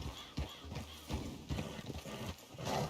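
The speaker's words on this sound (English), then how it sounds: "Damn horse acting up on me of all the times." Horse in Red Dead Redemption 2 acting up during a race, hooves clip-clopping in quick uneven beats with snorts and a brief whinny, close and moderately loud.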